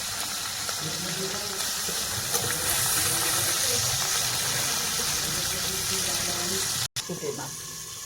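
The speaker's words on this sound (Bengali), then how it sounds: "খুব সুন্দরভাবে মা ভেজে নিচ্ছে গরম তেলের মধ্যে বল মাছগুলো" Boal fish frying in hot oil produce a loud, continuous close sizzle and crackle, with a brief break near the end.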